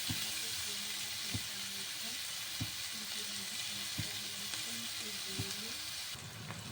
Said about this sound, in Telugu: ఉల్లిపాయలు వేగినాయి